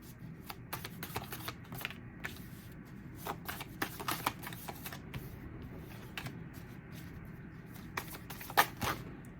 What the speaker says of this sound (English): So I'm going to pull tarot now.